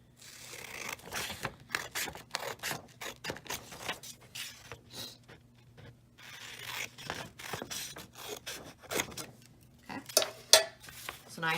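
Scissors snip through folded paper along dashed lines, a quick run of crisp, close cuts with brief pauses, alone in a quiet room.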